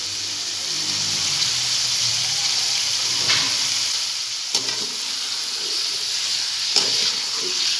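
Chicken frying with ginger garlic paste in a hot pan gives a continuous, close sizzle and hiss, with occasional stirring scrapes.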